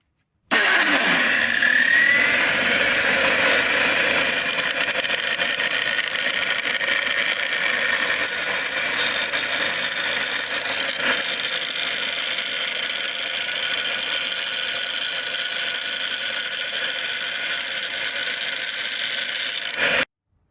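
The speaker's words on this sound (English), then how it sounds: "you can fine tune the shape a little bit using the grinder" An angle grinder works a metal taillight mount for a custom Honda Rebel motorcycle, shaping and deburring its edges in one loud, steady, continuous whine that runs nearly the whole stretch with no talk.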